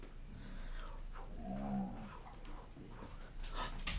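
A dog lets out a low, drawn-out groaning whine near the middle, faint and indoors against steady background hiss, with no talk.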